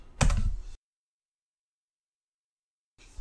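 Brief burst of computer keyboard typing, a quick cluster of close key clicks, then near-total silence before a few soft taps return at the very end.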